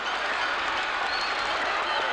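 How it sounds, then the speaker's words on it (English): A large crowd roars and cheers at the Burnie Carnival wheel race final, a dense, loud, sustained wash of voices and applause filling the whole stretch without a break. "Listen to the crowd roar."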